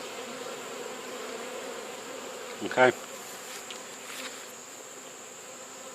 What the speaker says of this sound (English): You got bees wanting to get in.